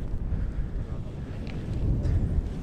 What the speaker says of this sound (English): Bit more windy here.